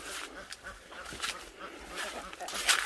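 Ducks on a small Thai mixed farm with banana plants, quacking and honking faintly in the distance over steady outdoor ambience, with a brief louder burst near the end.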